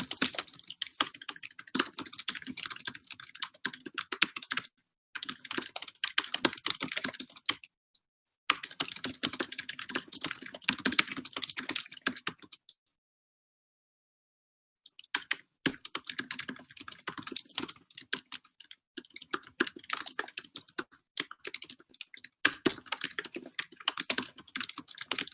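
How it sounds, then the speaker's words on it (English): Quick, clattering keystrokes on a computer keyboard come in long bursts, with a couple of brief pauses and one longer silent gap partway through, close and fairly quiet, with no voices. "If you haven't seen this, I'll type it out."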